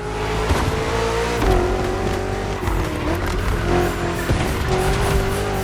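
Several BMW M CS cars in The Crew Motorfest: a steady engine drone with a sustained tonal whine, continuous and loud throughout, with brief tire squeal and shifting revs but no talk.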